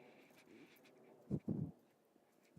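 A dog in training nearby gives a couple of short, breathy bursts like panting or a low whimper, faint against quiet outdoor ambience.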